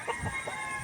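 Hens on a gamefowl farm cluck softly in short repeated calls, close by, with no talk over them.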